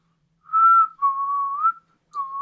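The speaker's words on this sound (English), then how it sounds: "as I walk, I'm just going to start whistling" A melodic whistled tune, close and clear, in three short phrases separated by brief pauses, with no other sounds.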